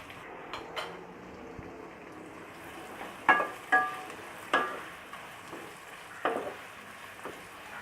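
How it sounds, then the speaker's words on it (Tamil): Long-sliced onions, three large ones, fry in oil in a pan for a Tamil chicken curry, giving a steady soft sizzle with several sharp clinks and scrapes of a stirring spoon against the pan. No one speaks. "ஸோ வெங்காயம் வந்து நல்லா பொன்னிறமாக வதங்கணும்."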